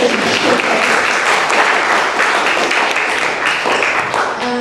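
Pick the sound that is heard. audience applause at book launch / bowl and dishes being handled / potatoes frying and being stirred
audience applause at book launch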